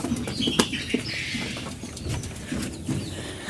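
Pigeons coo softly with brief bursts of wing flapping, fairly close, against a steady low background hum.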